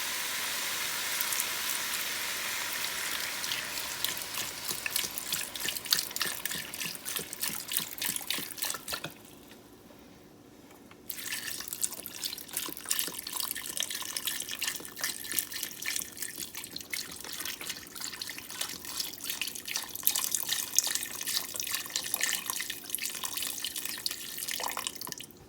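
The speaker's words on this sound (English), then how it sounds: "And to this, I'm going to add 1 32-ounce container of vegetable stock." Vegetable stock from a 32-ounce container pours steadily into a soup pot for butternut squash soup, a continuous liquid splashing and gurgling with a brief pause partway through before the pour resumes.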